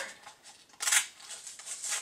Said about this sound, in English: I put my tip of my scissors in there and I'm going to cut to the corner.